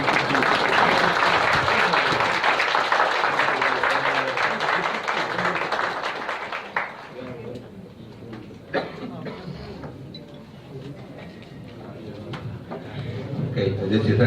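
Audience applause following a speech at a school symposium, sustained clapping from a crowd that fades out after several seconds, followed by a few scattered claps and a voice beginning to talk.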